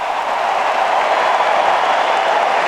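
Crowd at Arthur Ashe Stadium during a 2024 US Open semifinal roaring after Jack Draper's volley, a broad, sustained wash of cheering and applause, loud and unbroken for the whole stretch.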